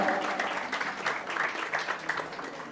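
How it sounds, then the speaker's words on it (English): Audience at a preschool's annual day function applauding together to welcome the start of the programme, a steady wash of clapping from many hands that holds evenly throughout without letting up. "join me in welcoming this auspicious start with big round of applause"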